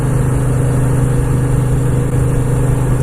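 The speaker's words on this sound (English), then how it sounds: "sort of feel that engine just purring" A Moto Guzzi V7 II motorcycle engine running steadily at low revs, a smooth, even purr with a constant throb and no spoken voices.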